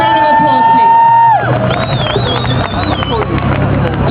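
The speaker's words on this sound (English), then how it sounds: "Please give a warm round of applause" A large crowd of around 2000 demonstrators outside the Syrian Embassy in London, with a steady roar of cheering and whoops taking over from a fading tone and continuing loud and dense.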